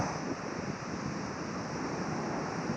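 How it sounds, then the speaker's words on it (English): Continuous broadband rush of waves on a beach, steady and fairly loud, mixed with wind buffeting the microphone, with no talking. "How nice is this beach?"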